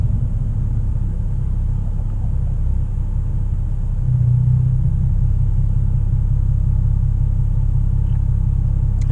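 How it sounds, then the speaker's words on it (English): A hybrid electric city bus drives past in Toronto, a heavy low rumble that fills the scene and swells slightly midway, loud and continuous without voices. "they have buses that are hybrid electric"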